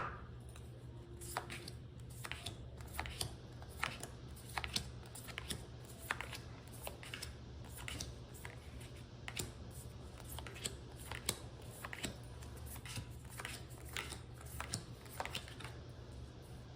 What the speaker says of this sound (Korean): 2개의 카드 뭉치 중 하나의 카드 뭉치만 그림면이 위로 오게 넓게 펼쳐주도록